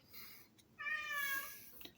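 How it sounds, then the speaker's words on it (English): A small pet cat meows indoors, one brief call followed by a longer, loud tonal meow with a short sound at the end, with no talking over it. "That's my cat. She weighs 10 ounces, and I got to tell you, she's louder than a bullhorn."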